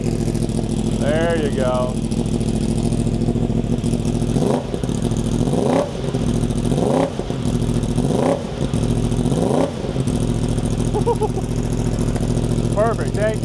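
A 2015 motorcycle, the first model year, fires up in a shop on a battery booster and runs at a loud idle, then revs in a series of rising and falling blips. A voice speaks briefly near the start.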